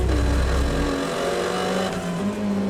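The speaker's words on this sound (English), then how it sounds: "So we have there the Chinese Taipei Ferrari closing right up." A Ferrari 488 GT3 Evo race car engine drones loudly through a race, a strong low rumble that eases into a higher steady tone as it holds speed, with no voices over it.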